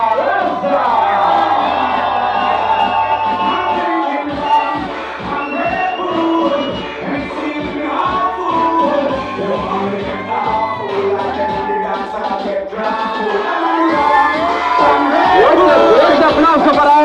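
Wedding guests cheering, whooping and shouting at a reception at The Royce Brook Golf Club in Hillsborough Township, New Jersey, a loud, sustained crowd roar mixed with music and an announcer's voice throughout.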